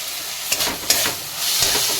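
A spice paste with a green chili frying in a pan for a chicken dish, with a steady sizzle broken by a few short stirring scrapes.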